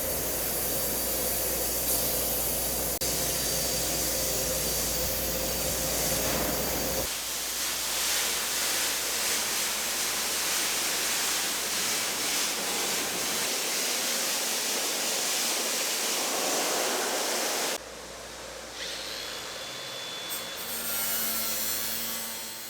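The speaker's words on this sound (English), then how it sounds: "we're going to lay some truck bed coating on it" Truck bed coating sprays under a Nissan Frontier's off-road rear bumper in long hissing bursts, close and loud, with brief pauses between passes and no talking.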